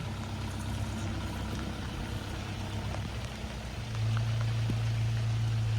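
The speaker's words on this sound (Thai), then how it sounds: "นี่รถกำลังเข้ามาแล้ว" A camper van rolls into a mown field in the countryside as rain falls, its engine a low steady drone that swells louder near the end over a constant patter of rain, with no talk.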